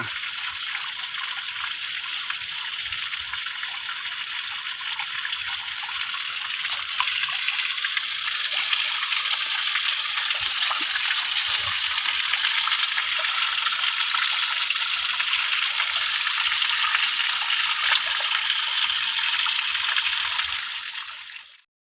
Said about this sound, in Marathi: या धबधब्यात आंघोळ करायले एकदम मस्त धबधबा बरं का